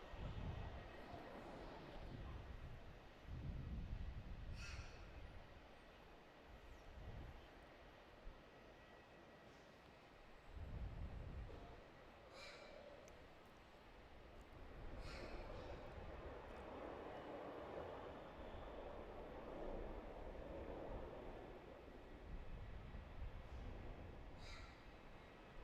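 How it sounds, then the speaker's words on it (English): A Qantas airliner bound for Perth takes off on runway 34 at Melbourne Airport, a steady, distant engine roar that builds and holds under a broad rumble, with faint intermittent chirps over it. "QF 769 off to Perth, now rolling runway 34."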